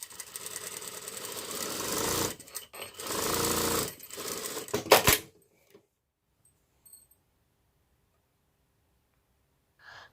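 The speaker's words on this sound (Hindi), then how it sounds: "तो मैं सिलाई लगा रही हूँ सीधी सीधी" Sewing machine running steadily as it stitches a straight gathering line across a top sleeve, a loud continuous whirring hum for about five seconds with brief pauses, then stopping into near silence with faint clicks.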